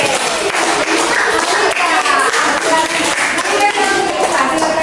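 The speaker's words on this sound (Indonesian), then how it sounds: "tepuk tangan untuk kelompoknya Elike" A class of schoolchildren applauds a group in a Catholic religious education lesson, steady loud clapping from many hands throughout, with voices mixed in.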